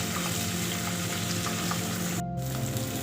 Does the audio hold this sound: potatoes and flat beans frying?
yes